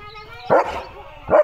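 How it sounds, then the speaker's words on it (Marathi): Two loud, close barks from a German Shepherd at a horse, a brief pause apart, over a low steady background hum. "लिओ त्याला भुंकतोय"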